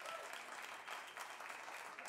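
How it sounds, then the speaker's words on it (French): An audience applauds loudly and steadily at a hip hop dance battle, dense continuous clapping from a crowd with no break. "je voudrais qu'on les applaudisse encore très fort"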